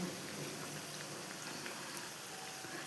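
Fresh gram (kadale kalu) cutlets deep frying slowly in oil make a steady, faint bubbling hiss that runs evenly throughout with no talk.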